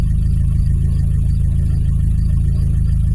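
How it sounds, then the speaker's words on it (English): A 1986 Nissan 720 truck engine with carburetor trouble idling steadily at a raised, even pitch, loud and close, with a constant low rumble and no voices. "It idles smooth. It just idles high."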